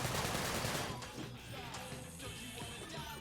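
Rapid AK rifle gunfire in the video game Sunset Overdrive, a dense burst of automatic shots loud and continuous for about a second, then quieter game ambience with scattered clatter.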